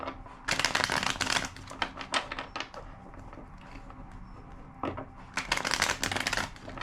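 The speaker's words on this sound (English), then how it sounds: "Two more shuffles." A tarot card deck is shuffled in repeated bursts of crisp, riffling card noise, with a quieter pause in the middle before two more loud shuffles.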